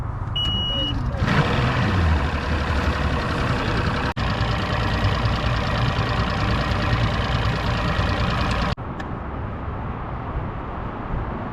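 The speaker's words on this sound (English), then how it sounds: "Turn the motor over." An outboard boat motor on Lake Ray Hubbard is cranked over without starting, a loud, continuous churning drone that cuts out for an instant midway, resumes, then stops abruptly, leaving quieter background noise.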